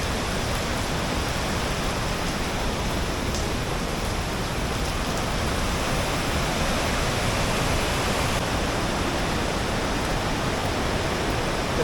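A waterfall in the Konkan swollen after a night of torrential monsoon rain, a dense, loud, unbroken roar of rushing water filling the whole clip with no voices.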